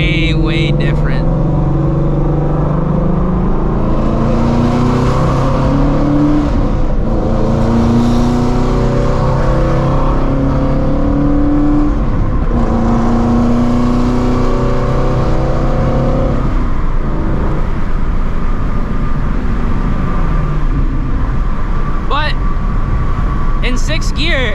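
A Shelby GT350 with catless long-tube headers and an E85 tune accelerates hard, its exhaust rising loudly through the gears in several pulls close by, then settling to a lower drone.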